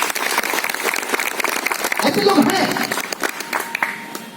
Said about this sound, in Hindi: एक बार उनके लिए ताली बजाएं।